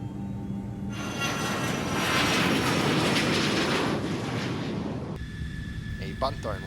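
An airplane taking off: a loud, broad engine roar swells over a few seconds, holds steady, then drops away abruptly near the end.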